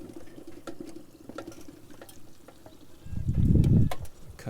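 Water poured off a pot of boiled potatoes into a sink, a low gushing splash that swells loudly in the last second and a half after quieter kitchen clatter.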